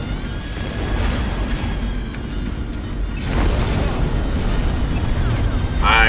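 Torpedo explosion in the space combat game Strike Suit Zero: a loud, sustained rumbling boom that keeps its broad roar for several seconds and swells in the second half, with a voice speaking over it.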